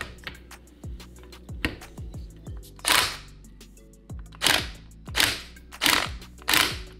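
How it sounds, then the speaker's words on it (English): An impact gun tightens bolts on a rebuilt BMW VANOS unit during an anti-rattle and ring seal kit job, with short sharp mechanical bursts and clicks repeating several times at close range in a quiet workshop. "So I'm just gonna give it a couple ugga-duggas with the gun."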